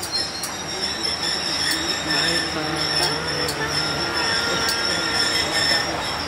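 Thai long-distance train pulling out of Bang Sue Central Station bound for Chiang Mai, wheels squealing steadily with faint rhythmic clicks of rolling stock, heard from inside the carriage.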